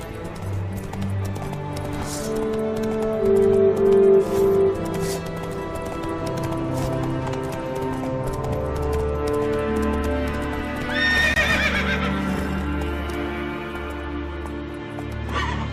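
A horse in The Witcher 3 whinnies and snorts amid game sounds, its hoof beats running beneath a sustained tonal music bed, with a loud high neigh near the end; no talking.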